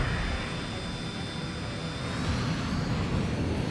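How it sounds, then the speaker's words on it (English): A jet fighter aircraft in the Ace Combat Assault Horizon video game roars steadily past, a loud continuous engine whoosh with a thin high whine, heard alone without speech. "More aircraft incoming."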